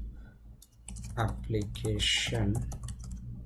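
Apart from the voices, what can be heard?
typing on a computer keyboard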